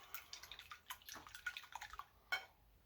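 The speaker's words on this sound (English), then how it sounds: "In goes the milk." Milk pours into a bowl of whisked eggs with soft, quiet splashing and trickling, ending in a slightly louder splash.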